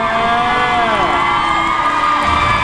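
A press conference crowd screams and cheers loudly and without a break for the presenter, a dense wall of high-pitched shrieks and whoops.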